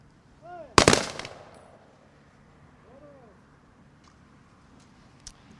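Rifle volley salute at an outdoor Veterans Day ceremony: one loud, sharp burst of gunfire rings out and decays into the open air, followed by quiet ambience with faint voices and a brief distant knock near the end.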